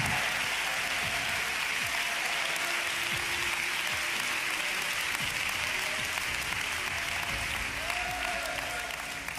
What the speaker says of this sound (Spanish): Un aplauso al Señor con el alma.